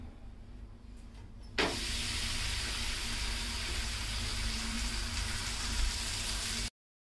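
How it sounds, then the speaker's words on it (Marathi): After a soft clatter, a steady broadband sizzle starts abruptly and continues evenly as thalipeeth flatbread dough hits a hot griddle on a gas stove, then cuts off. "गॅसवर तवा गरम करायला ठेवलेला आहे तर मी हे थालीपीठ घालते"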